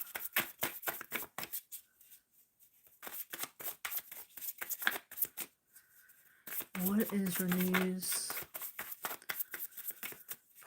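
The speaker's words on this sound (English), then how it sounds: "Shuffling for love." Tarot cards are shuffled by hand during a live reading, giving bursts of quick papery riffling and slaps that stop and start, while a voice talks between and over them.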